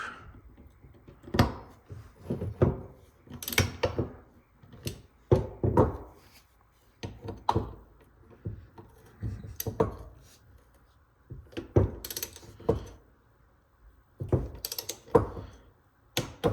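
Bolts on a 1990s Switchblade mountain bike fork are snugged with a tool, giving a long series of sharp ratcheting clicks and metallic taps in irregular bursts, close and clear with no talking.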